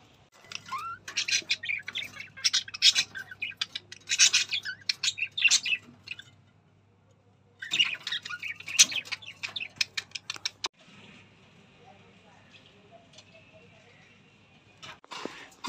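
A pet budgerigar chirps and squawks nearby in busy bursts of quick tweets, with a quiet pause between bursts and softer, thinner calls toward the end.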